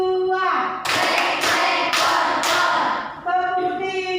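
A classroom of children performs the tepuk gregor clapping chant, led by a teacher: four sharp group claps in a steady rhythm, set between sung, chanted voices.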